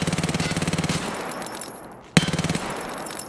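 Rapid automatic gunfire from a video game weapon loaded with RIP ammunition, a tight rhythmic burst of shots for about a second, then a lull and a sharp loud shot followed by another short rapid burst, close and punchy.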